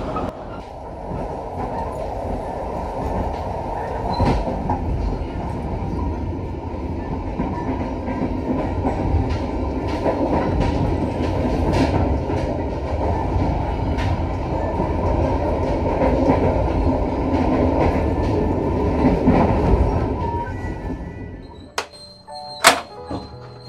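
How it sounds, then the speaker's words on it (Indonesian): From inside a Brantas economy-class passenger train pulling into Blitar station after the run from Jakarta, a loud, steady rumble of wheels and carriage noise continues with clicks and thuds, then quiets near the end with a few sharp clanks. "hampir menuntaskan perjalanan selama 13 jam dari Jakarta sampai ke Blitar dengan kereta berantas ekonomi"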